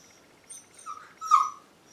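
A puppy lets out a few short, high whimpering whines close by, with the last one the loudest, separated by brief quiet gaps.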